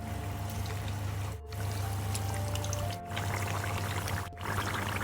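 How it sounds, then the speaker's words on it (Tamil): Pieces of masala-coated chicken deep fry in hot oil, giving a steady, close hiss and crackle that briefly dips three times. "இதை அப்படியே போட்டு நம்ம பொரிச்சு எடுக்க போகிறோம்."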